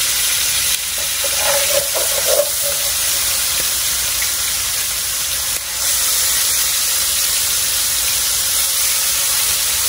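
Short ribs sear in a hot pan with a steady, close, loud sizzling hiss that runs throughout, broken by a few brief clatters early on.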